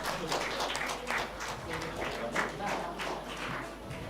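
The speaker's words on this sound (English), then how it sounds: "Yes, a big round of applause, everybody." A workshop audience at a pharmacy college event claps in a moderate, steady patter, a smallish group's applause running the whole stretch at even loudness.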